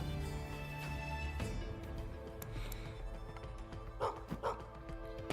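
Dog barking inside the steampunk video game Gestalt: Steam & Cinder, two short barks near the end over a steady bed of game music and ambience.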